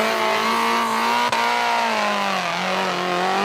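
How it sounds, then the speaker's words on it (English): A supercharged Mitsubishi Pajero 4x4 holds a loud, high rev on a 4x4 trials course near Taupo, its engine note steady and then dipping slightly, with a brief clunk partway through. "He's in the little Pajero. It's supercharged."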